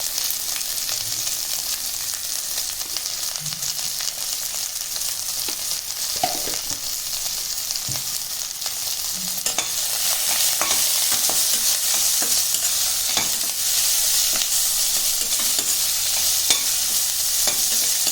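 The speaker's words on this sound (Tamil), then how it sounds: "இந்த வெங்காயம் வதங்கட்டும்." Onions with salt sizzle and fry in a pan on the stove for Tamil tomato rice, a steady close hiss of sautéing with occasional stirring scrapes and taps, growing slightly louder midway.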